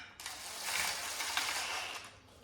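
Bolts being snugged with a ratchet while fitting a clutch, a quick run of fine clicking pawl ticks, close and fairly quiet, with no talking.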